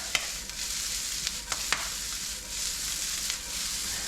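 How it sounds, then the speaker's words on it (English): Onions fry and sizzle in a pan for a Mexican street corn dip, a steady hiss with a few sharp clicks and scrapes of stirring, close and moderately loud with no talking. "I want my onions to cook down a little bit."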